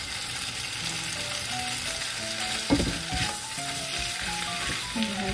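Wide fresh noodles sizzle steadily in a hot pan during stir-frying, with a constant close frying hiss and occasional stirring scrapes and clatter.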